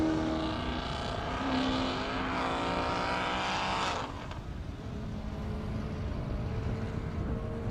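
A 1,081-horsepower Corvette Z06 runs on a half-mile airstrip, its loud engine roar rising through gear changes before dropping away into a fainter, steadier drone as it moves off.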